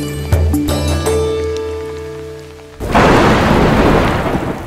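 Rain shower with thunder over farm fields: deep thunder rumbles first, then a loud dense wash of steady rainfall fills the rest, close and without voices.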